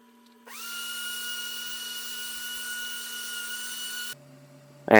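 A power sander works over wooden parts of a hanging bookcase before assembly, giving a steady, close high whine that runs for about three and a half seconds and then cuts off abruptly.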